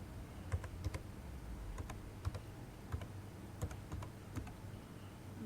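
Someone types on a computer keyboard at an irregular pace, entering the title of a math topic on numerical solutions of equations. The clicks are quiet and sharp, arriving singly and in quick pairs, with no talk over them.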